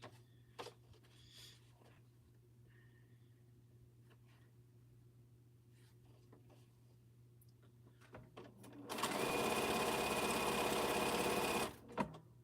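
A sewing machine runs in a steady, loud whir for about three seconds near the end while quilting, after a long stretch of quiet room hum with faint handling clicks.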